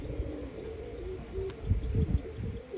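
A female biscuit pigeon doing its wing display, with soft cooing and a cluster of low, muffled wing claps near the end against a steady background hum.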